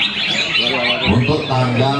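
A green leafbird (cucak hijau) calls at an Indonesian bird contest arena, bright chirping phrases close by, mixed with a voice talking over it.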